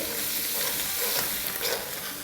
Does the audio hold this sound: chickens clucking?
no